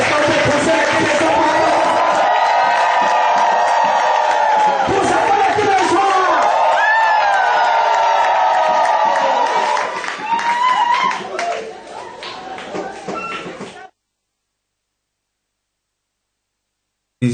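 A church congregation acclaims and cheers the Lord in loud, sustained crowd noise with clapping and shouts, fading after about ten seconds and then cutting to silence.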